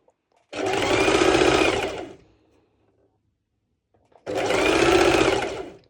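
Sewing machine running a straight stitch in two long bursts of steady whirring, each about two seconds, separated by a pause of silence, close and clear.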